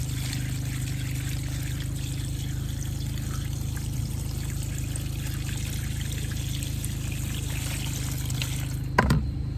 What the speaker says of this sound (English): So I fill it up like right where that first line is.